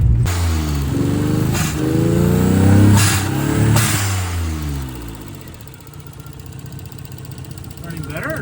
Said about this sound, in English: Oh, I'm doing a lot of misfiring.